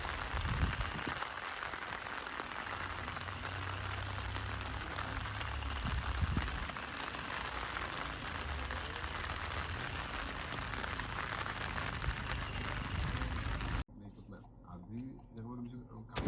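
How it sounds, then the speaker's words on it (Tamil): Heavy rain pours steadily at a misty hilltop viewpoint in Valparai, a dense continuous hiss up close with low rumbling beneath, voices talking over it, before dropping quieter near the end. "செம்ம மழை."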